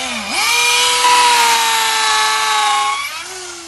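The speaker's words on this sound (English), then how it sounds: "You drill it direct to the center. Okay, this is a 16mm drill." A power drill with a 16mm bit bores into an agarwood tree trunk about a foot above the ground, one continuous high motor whine under load for about three seconds, rising at the start and easing off at the end.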